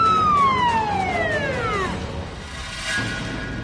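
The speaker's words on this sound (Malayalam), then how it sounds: "എല്ലാരും ഒന്ന് നിക്കൂ, ഫയർ എഞ്ചിൻ വന്നിട്ടുണ്ട്" A fire engine's siren arriving at a blaze in a TV serial scene, heard as one loud wailing tone that winds steadily downward and fades, over a background hum.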